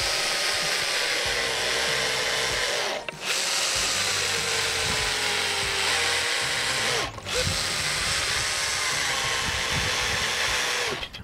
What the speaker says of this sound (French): vous vissez